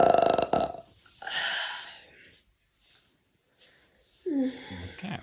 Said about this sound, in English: I love to burp